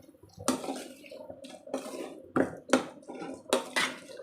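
Green peas being mixed with a little water in a pan for a Maharashtrian matar karanji filling: several short metallic scrapes and wet clinks of a spoon against the pan, spaced irregularly, close and fairly quiet.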